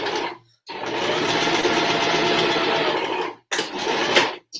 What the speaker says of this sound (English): I'll just do it quickly on the machine today